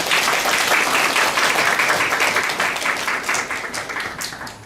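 Audience applause at a university graduation ceremony, a dense, sustained clapping from a large crowd that stays loud throughout and tapers slightly toward the end, with no talking over it.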